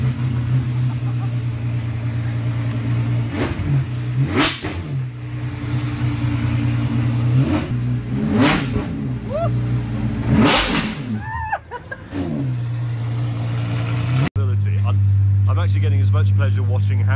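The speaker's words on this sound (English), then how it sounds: "We're about to hear what a naturally aspirated V12 in the Apollo sounds like." The naturally aspirated V12 of an Apollo IE supercar drones steadily under talk, with several sharp revs rising and falling before the sound cuts off abruptly.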